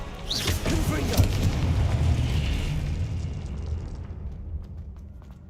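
A Confringo fire spell in Hogwarts Legacy bursts into a loud, rumbling explosion, a heavy roar that swells and then slowly fades away over several seconds.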